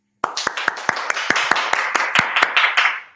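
A studio audience on a Spanish-language political talk show breaks into applause, a run of crisp handclaps that swells into a steady, moderately close clatter for about three seconds.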